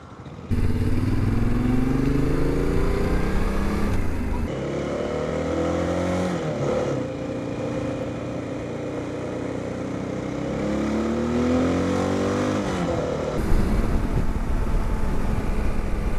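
Honda XR650L single-cylinder motorcycle riding on a sunny day over highway and backroads, its engine droning steadily and close with shifting revs and throttle changes throughout.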